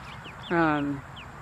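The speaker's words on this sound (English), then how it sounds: "these guys are in with the baby chickens" A single loud, drawn-out chicken call with a harmonic, squawky tone rises over faint background chirps and rustle on a homestead, ending abruptly after about half a second.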